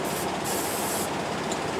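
A spray can hisses in short bursts while coating part of a Rock-Ola 443 jukebox under repair, a close, bright sputtering hiss with a brief pause near the start.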